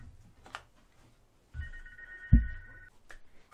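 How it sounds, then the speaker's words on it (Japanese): A telephone rings once with a steady electronic trill lasting over a second, set against a quiet room with a few dull knocks and handling noises around it. "ちょっとね電話が鳴ってしまいましたので"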